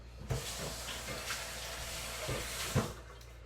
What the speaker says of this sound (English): Just take your Comet, your bleach, Comet, clean it all up in there, rinse it out